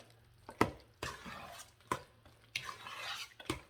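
Sweet potato pie filling of mashed sweet potato and egg being stirred and folded in a bowl, quiet alternating soft squishy scrapes and sharp spoon taps against the bowl, close and without talk.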